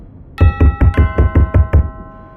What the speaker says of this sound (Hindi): डोरबेल के साथ साथ जोर जोर से किसी के दरवाजे को खटखटाने की आवाज